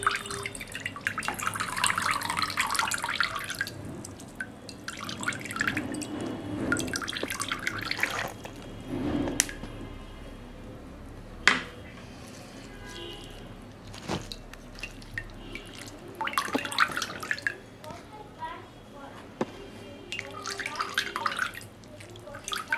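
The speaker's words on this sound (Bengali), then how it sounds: "এবার এটাকে আমি চেপে চেপে আপেল সিডার ভিনেগারটা বের করে নেব।" Soft, fermented homemade apples squeezed by hand to press out apple cider vinegar, giving wet squelching and dripping liquid in intermittent bursts, close and moderately loud with quieter gaps between squeezes.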